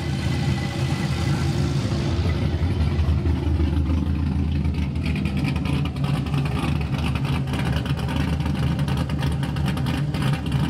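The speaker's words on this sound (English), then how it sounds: "You can hear the cam just chop." A V8 engine in a Mazda Miata idles with a loping, uneven cam chop, a deep rumbling throb pulsing steadily close by, no talking.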